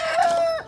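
Loud, close crow from a fine Pava gamecock, one brief call that rises and then trails off at the end.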